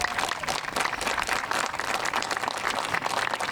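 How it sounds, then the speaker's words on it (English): Crowd applause at an outdoor inclusive playground grand opening, dense continuous clapping from many people, loud and steady throughout. "can we just say hats off to this playground committee and give them a"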